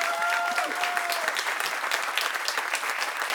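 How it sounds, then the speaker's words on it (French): Steady, dense applause from a comedy club audience during a stand-up set, loud and even throughout with a brief faint whistle-like tone near the start, no talking. "applaudis l'accent marseillais."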